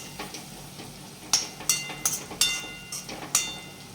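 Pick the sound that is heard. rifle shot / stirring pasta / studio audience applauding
stirring pasta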